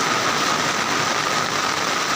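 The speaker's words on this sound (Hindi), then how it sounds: "क्योंकि वर्षा तेज़ हो रही है" Heavy monsoon rain pours steadily in a rural village by flooded rice paddies, a dense, even hiss of drops hitting surfaces and water, loud and unbroken with no voices.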